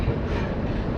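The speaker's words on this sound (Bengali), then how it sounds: "finally train Malda town station enter করছে" The New Delhi–Malda Town Express rolls into Malda Town station at night, a loud close rumble of wheels and carriages filling the moment.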